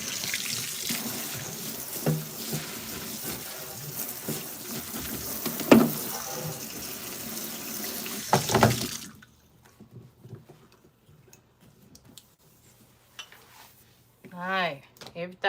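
Running tap water splashes into a sink as dishes and utensils are washed in a home kitchen, a steady broadband rush for about nine seconds that stops abruptly, followed by quieter clinks and a brief voice near the end.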